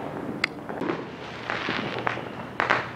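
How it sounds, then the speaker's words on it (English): Fourth of July fireworks bursting at a distance: several sharp cracks and booms at irregular intervals, moderately faint, over outdoor background noise. "Pyrotechnics."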